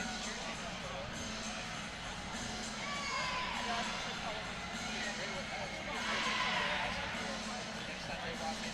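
Crowd noise at an NCAA women's volleyball tournament match between UC Santa Barbara and San Diego, a steady arena murmur with brief swells of shouting, under close talk from an announcer.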